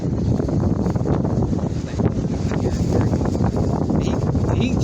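Wind gusts across an outdoor spot on a dark, windy day, a steady loud rush buffeting the microphone for the whole stretch.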